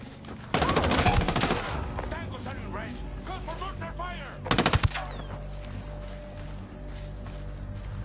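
Two bursts of rapid automatic gunfire in Ghost Recon Wildlands, the first longer and the second a short volley a few seconds later, with a lingering electronic hum and faint insect-like chirps between them.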